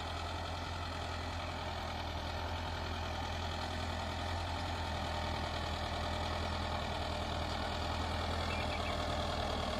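Tractor pulling a 5-tyne cultivator while ploughing a field, a steady loud engine drone with a strong low hum, running continuously without change.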